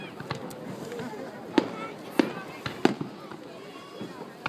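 Fireworks at an American display pop and crack in irregular bursts, several sharp distant bangs over a crowd with people chatting throughout.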